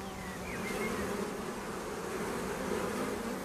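Bees buzz steadily and close on Mount Athos, where monks keep hives for honey and candle wax, a dense continuous insect hum with no voices.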